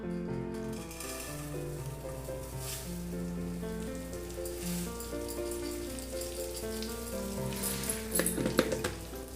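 Poha roasting in a spoonful of ghee in a pan gives off a steady, gentle sizzle and crackle, with soft clinks of a spoon against the pan near the end and background music underneath.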